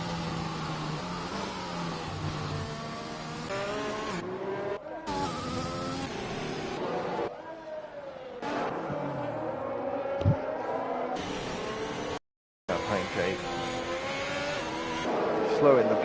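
Race cars in the Live for Speed racing game run down the start-finish straight of a San Marino Grand Prix league race behind a safety car, engines droning steadily with brief dropouts while a commentator talks over them.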